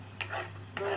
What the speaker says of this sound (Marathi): 2 ते 3 मिनटं व्यवस्थित फ्राय करून घ्यायचं आहे. त्यामध्ये मी दही टाकलेलं आहे